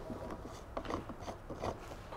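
Bicycle pedal axle turned clockwise by hand to tighten it during assembly of a 20-inch bike, giving faint ratcheting, gritty clicks close by and no voices.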